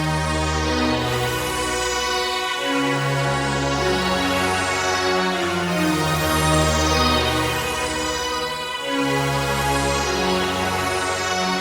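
A basic synth pad plays a slow progression of sustained chords for a beat built on sample-style production, steady and full with a continuous low end and shimmering upper harmonics, no voices.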